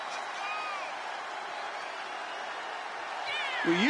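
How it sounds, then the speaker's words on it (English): A steady, full roar from the arena crowd at a WWE 2K24 championship wrestling match fills the whole stretch, with a few brief tonal calls rising near the end. "Listen to that crowd."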